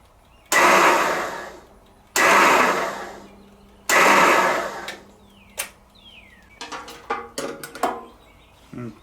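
A John Deere 318 garden tractor engine cranks on its starter in three long, loud grinding bursts without catching, followed by several short clicks and knocks.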